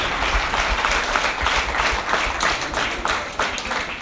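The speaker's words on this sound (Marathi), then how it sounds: "एकदा टाळ्या वाजवून तिचं आपण अभिनंदन करूया" Audience applause at a theatre event welcoming a director: steady, dense clapping from a crowd throughout, loud and sustained with no voices over it.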